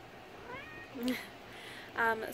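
A pet cat meows twice, a short soft call and then a louder, sharper one, close up against a quiet room hiss.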